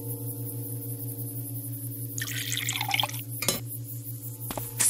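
Water poured into a glass from a short burst of splashing trickle over a steady humming music bed, followed by a couple of sharp clinks, in an animated fairy tale.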